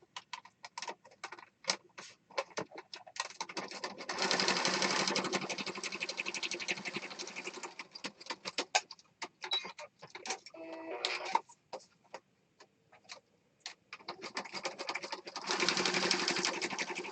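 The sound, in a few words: sewing machine stitching across mixed media project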